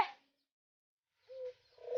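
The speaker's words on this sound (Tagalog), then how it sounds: "Bato-bato yatang ibon to." A bato-bato dove kept among native chicks gives soft, low cooing notes, a short single coo followed by another starting, close and quiet with silence between.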